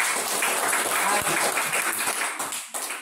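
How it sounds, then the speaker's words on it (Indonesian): Classroom students clap for a presenting group, a steady wash of applause running close and fairly loud for about three seconds before tapering slightly at the end. "kita tepuk tangan untuk kelompok 2"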